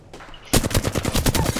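Rapid automatic gunfire in the video game Apex Legends, a quiet moment broken by a loud, dense burst of repeated shots that keeps hammering steadily to the end.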